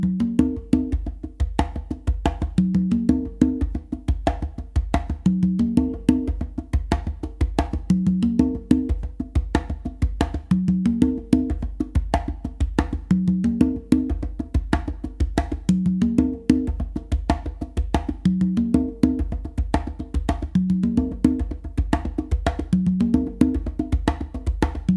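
Funk a caballo fusion pattern played on congas and tumba, a steady repeating rhythm of open tones, slaps and ghost notes cycling continuously at close range with no talking.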